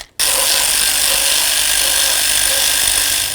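A power tool whirs continuously and loudly, close up, while undoing intake manifold mounting bolts on a 2007-2017 Ford Expedition, starting abruptly after a brief silence.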